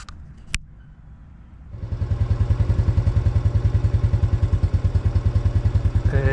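Italika motorcycle engine idling steadily after a gas line replacement, a loud close rapid chugging that catches after a brief click and builds into an even, continuous putter.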